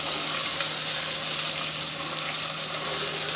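Vegetables and tomatoes frying in a pan for veg biryani give a steady, close, unbroken sizzle with a faint watery hiss, and nobody speaks.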